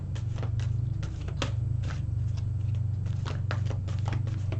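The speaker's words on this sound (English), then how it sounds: "So I'm just going to shuffle these." Tarot cards are shuffled by hand in a steady stream of crisp riffles and slaps, close and clear, over a constant low hum with no talking.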